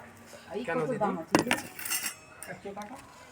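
Steel bowls clinking and clattering in a home kitchen, a few sharp metallic knocks and rattles in quick succession at moderate loudness, with no talking.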